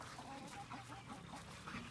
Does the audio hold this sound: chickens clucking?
yes